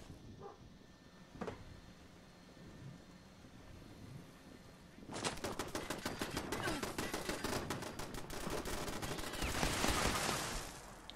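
Rapid gunfire from Fallout 76 bursts out partway through: a dense run of sharp, closely spaced shots that keeps going to the end. It follows a quieter stretch with a single loud crack.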